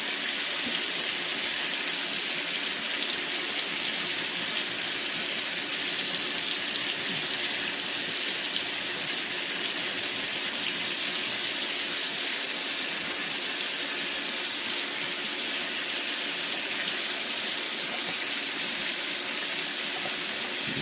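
Tap water runs in a steady, close rush as hands are rinsed at a kitchen sink, a continuous broadband splashing that holds the same level for the whole stretch with no speech.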